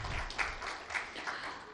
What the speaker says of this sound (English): I request everyone to please give a huge round of applause for their insights